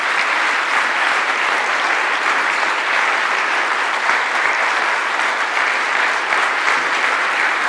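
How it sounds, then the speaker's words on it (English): Audience applause at a motivational talk fills the hall in a dense, steady wash of clapping that holds at an even loudness from start to finish, with no voices standing out. "Please give a round of applause to this most powerful lady in this year."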